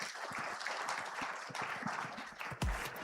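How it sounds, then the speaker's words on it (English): A conference audience claps for a panel of speakers, dense applause thinning out toward the end, with a low bump near the close. "A round of applause, please, for my panelists."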